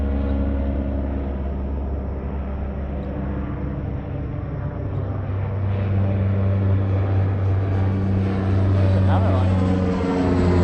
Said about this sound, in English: there's a dope like prop plane overhead